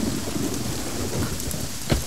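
Heavy rain pours down in a steady, dense wash with a thunder crack near the end, loud and close, with no voices.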